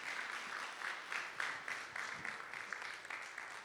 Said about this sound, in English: Let's give a big round of applause for all of these presenters.